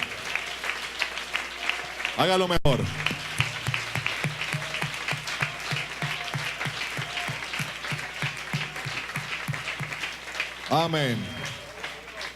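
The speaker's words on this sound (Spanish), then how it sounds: "Si ese aplauso es para Jesús" A church congregation clapping in a steady rhythmic beat during worship, mixed with voices and a preacher calling out over the clapping, loud and continuous throughout.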